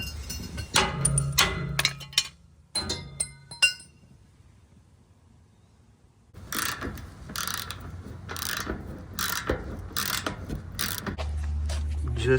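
Metallic clinks and a ratcheting wrench cranking as the last bolt is tightened on a skiff trailer, short bursts of clicks separated by a quiet pause, close and fairly faint.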